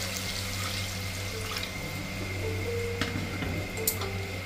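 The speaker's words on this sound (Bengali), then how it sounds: "এখন আমি এতে আরেকটু জল বেশি করে দিয়ে ঢাকা চাপা দিয়ে দেব। জলটা বেশি করে দিয়ে দিচ্ছি।" Water poured into a pan of khoira river fish cooking in a mustard oil and chili curry, a steady close splashing stream over a low background hum, with no talk.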